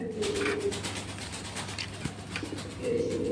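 American lakka pigeons in a pet shop coo steadily and close by, layered over a busy room hum.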